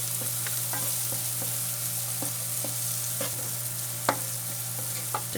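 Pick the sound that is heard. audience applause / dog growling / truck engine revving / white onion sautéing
white onion sautéing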